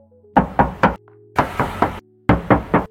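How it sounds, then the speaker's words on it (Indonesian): Knuckles rap on the metal body panel of a used 2016 Honda HR-V automatic, three quick groups of three to four hollow, close knocks separated by short pauses, with a faint tone in the gaps. "Kita tes ketok lagi nih."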